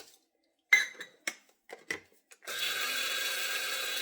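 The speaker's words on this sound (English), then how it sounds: "I'm actually going to use a coffee grinder" A few light clinks and taps, then a coffee grinder motor starts up grinding oats into flour with a loud, steady whirring that runs to the end.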